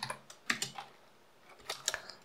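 Keystrokes on a computer keyboard while JavaScript code is typed, a few quick clusters of clicks with a short pause in the middle, close and fairly quiet with no talking.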